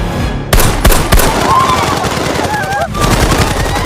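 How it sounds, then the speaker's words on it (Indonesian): Gunfire in a film scene, heard from a distance, comes as loud rapid automatic bursts with several sharp individual shots punctuating a steady crackle of fire. "Gesper mendengar suara tembakan dari jarak jauh"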